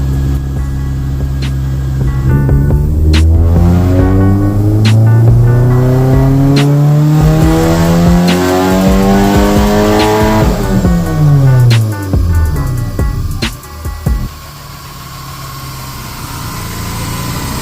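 A supercharged 9th-generation Honda Civic on a dyno making a full pull, engine rising loudly through the revs with supercharger whine, then lifting off and winding down with clunks near the end.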